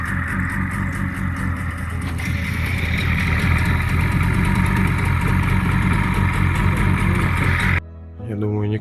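Outboard boat motor on a river trip, idling steadily and loud for several seconds after starting, then cutting off abruptly near the end.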